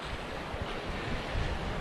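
Steady broadband rush of flowing water from a river beside Idaho hot springs, continuous and fairly close, with some low wind rumble and no voices.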